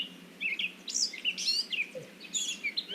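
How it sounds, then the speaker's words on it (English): Several songbirds sing outdoors, a cardinal among them, with bright repeated chirps and whistled phrases coming in bursts over steady background hiss, fairly near and moderately loud, with no talking. "hearing a little cardinal"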